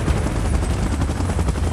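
Helicopter in the PUBG Mobile battle game, a loud, close, continuous rotor roar with a fast, even chopping throb that fills the whole moment.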